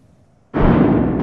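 A frag grenade detonates in Apex Legends: a sudden loud, broadband blast after half a second of quiet background, sustained as a dense roar to the end.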